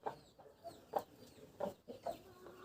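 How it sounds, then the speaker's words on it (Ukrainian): Hens clucking softly in short bursts close by, with faint scratching and shuffling as they drag eggshells between the calls. "Кури шкаралу потягають."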